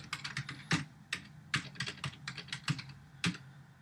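Someone types a Java package name on a computer keyboard, producing a close, quick, uneven run of key clicks with a few heavier strokes, probably the space or enter key, and no talking.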